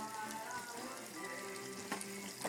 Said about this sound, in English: And here we have our fish frying.